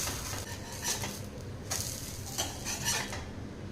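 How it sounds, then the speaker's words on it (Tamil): Metal spatula scraping and flipping a barley and spinach dosa in a pan, a few quick scrapes and taps over a soft sizzle, close and fairly quiet. "ஓரங்கள் வந்து எடுத்து விட்டுட்டு நம்ம வந்து திருப்பி போட்டுக்கலாம்"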